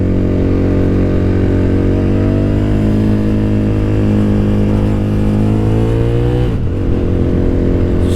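A 2003 Suzuki TL1000R motorcycle engine revs loud and steady while riding, its pitch holding then easing off as the throttle rolls back, ending in a brief dip near the end.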